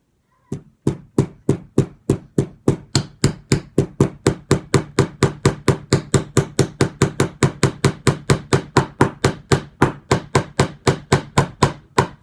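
Steady, rapid metallic hammer taps on model railway track pins repeat evenly about four times per second, close and crisp, with no voices.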